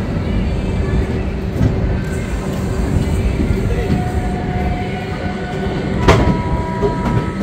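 Moving train nearing New Jalpaiguri Junction, heard from on board as a loud steady rumble and rolling clatter with a brief sharp squeal or screech near the end.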